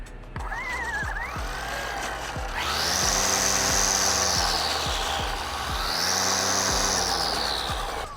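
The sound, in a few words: Ryobi 40V string trimmer revving with variable speed trigger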